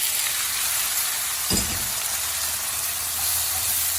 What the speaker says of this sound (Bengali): এখন আমি এই পেঁয়াজ মরিচের মধ্যে শাকগুলো ঢেলে দিব